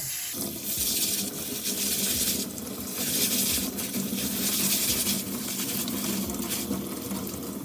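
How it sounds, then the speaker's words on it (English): Cold tap water gushes and splashes over red adzuki beans in a strainer, with bursts of running water and soft patter, fairly close. "Then rinse it with cold water."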